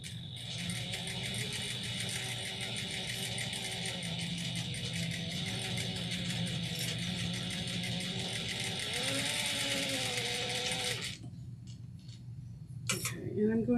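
Sewing machine stitching fabric with elastic, a steady loud mechanical whir and rapid ticking that runs continuously for about eleven seconds, then stops abruptly into near silence with a brief clunk near the end.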